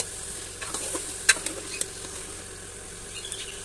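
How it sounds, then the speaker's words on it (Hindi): Potatoes and meat being fried together in a pot for an aloo gosht curry, a low steady sizzle with scattered stirring scrapes and clicks, no talk. "अब हम इनको आलू के साथ भून लेंगे"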